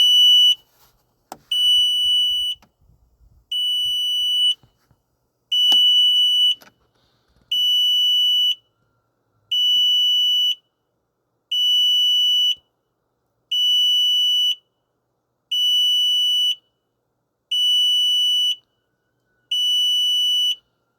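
A smoke alarm sounds a steady series of loud, high-pitched beeps, about ten evenly spaced pulses roughly every second and a half. A few clunks and knocks come early, near a Yamaha WaveRunner with a Connext touchscreen.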